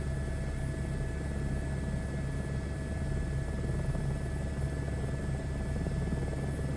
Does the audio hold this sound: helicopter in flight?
yes